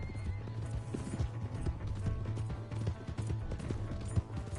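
Horse in the Red Dead Redemption 2 video game, with repeated clip-clopping hooves and a neigh, close and distinct, with no talking.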